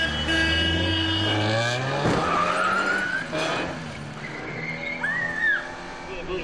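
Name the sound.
car skidding in a staged crash demonstration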